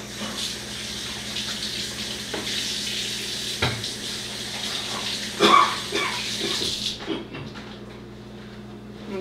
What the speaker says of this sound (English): Let me wash them again now because I touched the meat.